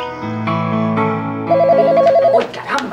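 A telephone rings in a Spanish-language telenovela, a loud trilling electronic tone over sustained musical notes, followed by a few sharp clicks.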